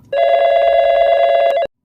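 A telephone bell rings loudly and steadily for about a second and a half, a continuous close electronic trill that cuts off abruptly, with no voices over it.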